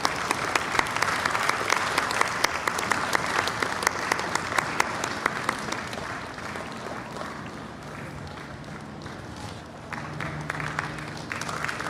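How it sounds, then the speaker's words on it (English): A large festival crowd applauds an honoree in a long, dense wash of clapping that holds steady and thins slightly toward the end, broad and reverberant with a few faint voices mixed in. "Let's give a big round of applause to Miss Maureen Evans, who is felicitated by Gurudev"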